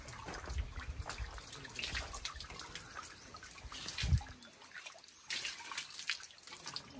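Water trickles and drips softly into the hand-washing basin at Nakanotake Shrine in Japan, a faint, steady patter with a brief louder splash near the middle.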